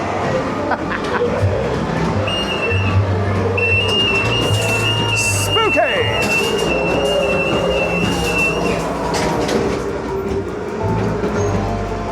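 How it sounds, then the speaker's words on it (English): A funfair ghost train ride rumbles and clatters steadily on its track with a long high squeal, loud and continuous throughout. "So there is a ghost train here, so yeah, let's go for a ride on that."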